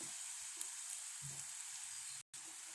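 Garlic and dried red chillies fry in hot oil with a steady, bright close sizzle throughout and a few faint low bumps. The sizzle cuts out completely for a split second near the end.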